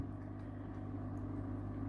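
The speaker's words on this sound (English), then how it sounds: "that noise you can hear is from the flue valve main pump" A Sicce internal aquarium filter pump drones with a low, steady mechanical hum and a faint buzzing texture, quiet and unchanging throughout.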